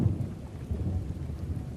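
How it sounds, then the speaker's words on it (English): Steady rain falls on a drizzly day, heard from a stoop as a soft, continuous low wash with faint patter and no voices. "I'm sitting here on the stoop watching the rain on this drizzly day"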